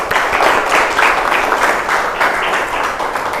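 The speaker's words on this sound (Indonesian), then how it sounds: "tepuk tangan dulu dong buat Amel." A crowd applauding steadily for a few seconds, dense overlapping claps at an even, fairly loud level with no talking.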